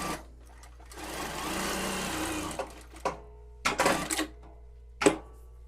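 A Bridgsew R8-S industrial sewing machine running a continuous burst of stitching, then several short separate bursts for a double back tack, close and clear with no talk.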